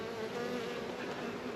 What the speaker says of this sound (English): Got a couple curious guard bees on me